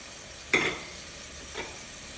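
Chopped red onion hitting about three tablespoons of hot cooking oil, a sharp sizzling burst that fades into a steady low hiss, with a second smaller flare of sizzle a moment later.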